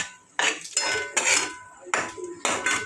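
A coconut, jaggery and sesame modak filling is stirred in a pan, with four or five rhythmic spatula scrapes and clanks against the metal, loud and close, with no voices.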